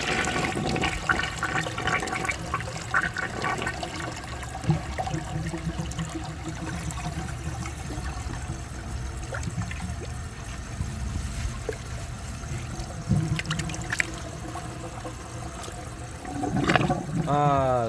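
A 1983 Mansfield Imperial toilet flushes on a second try, a steady rushing swirl of water that runs the whole time, with a gurgling drain and a brief louder surge near the end.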